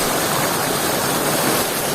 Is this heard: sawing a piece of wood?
no